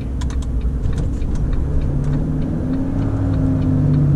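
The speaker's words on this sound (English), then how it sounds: "It has a good engine brake" A big old Volvo FH truck pulling a long trailer at night drones steadily under engine braking, a loud, continuous low rumble with a sustained tone from inside the cab.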